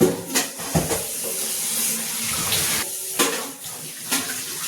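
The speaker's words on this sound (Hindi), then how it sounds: "तो अभी अभी मोटर चलाई थी, तो मैंने सोचा चलो पहले पानी भर लेते हैं" Water pours steadily from a kitchen tap while an electric pump motor runs, a continuous splashing rush with brief bumps and shifts as the vessel fills, close and fairly loud with no talking.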